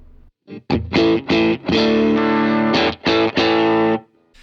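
An electric guitar plays at maximum gain through a Walrus ACS1 amp simulator with reverb and delay switched off. Loud, heavily distorted chords are struck in short rhythmic bursts and sustained stabs, then cut to silence.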